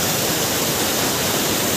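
Water rushes steadily through a handmade stone filtration channel on a hillside water supply in Bageshwar, Uttarakhand, a loud, continuous broadband flow close by with no break and no voices.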